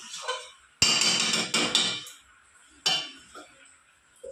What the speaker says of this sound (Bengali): এবার আমি থালা দিয়ে ঢেকে দেবো